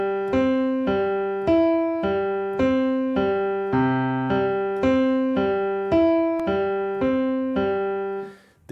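Piano repeating a short rhythmic chord-and-melody pattern, the red color block, struck in even pulses about every half second for several seconds, clear and close, ending with a fading final chord.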